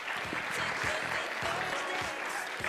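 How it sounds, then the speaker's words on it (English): Applause from a crowd at a company sales rally, a full continuous clatter of clapping close by, with a faint voice murmuring underneath. "So big round of applause."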